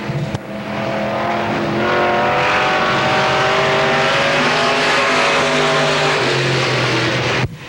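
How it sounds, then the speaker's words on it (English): Race car number 55 taking its first lap at Pittsburgh's Pennsylvania Motor Speedway during the 1993 Fall Classic 40: a loud engine howl that climbs in pitch as it accelerates, then holds a sustained high-revving drone before cutting off sharply. "Nepper in car number 55. Bill Nepper taking his first lap."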